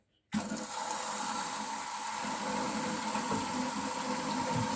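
Water rushes in abruptly and keeps pouring steadily into a toilet cistern as it refills, a loud continuous hiss and gurgle.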